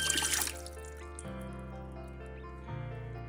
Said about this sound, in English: Now I'm gonna add a cup of water.